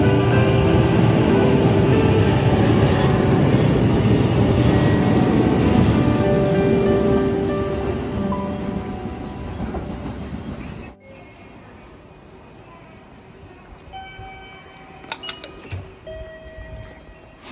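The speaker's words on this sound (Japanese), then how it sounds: "最後にこの列車をですねお見送りいたしましょう。" A train rumbles loudly as it pulls away, its roar fading over several seconds before a sudden drop to quieter station ambience with faint clinks.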